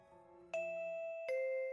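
A doorbell chimes in the NIKKE video game, two clean bell tones, a higher ding followed by a lower dong, ringing out and sustaining against silence.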